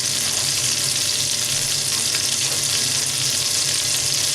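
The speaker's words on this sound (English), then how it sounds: "we've got the butter and the oil melting together in the pan" Butter and oil melting together in a soup pan, giving a loud, even, continuous hiss and sizzle with no pauses and no talking.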